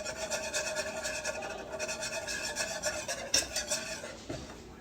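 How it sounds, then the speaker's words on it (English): Rhythmic scraping and tapping of a whisk stirring flour into a pan for macaroni and cheese sauce, fairly quiet and steady with one sharper clink near the end. "I'm going to slowly whisk in the flour."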